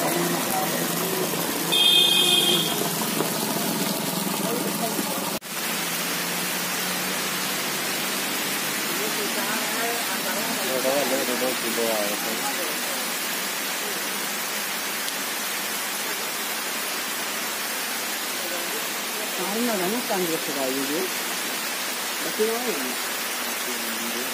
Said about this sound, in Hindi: बारिश अभी भी हो रही है और देखिए पानी गिर रहा है तेज़ धार में।